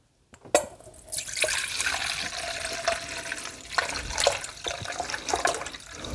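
Brine from a jalapeno ferment jar pours out in a steady, close splashing stream that runs for several seconds, with small glugs and drips breaking through.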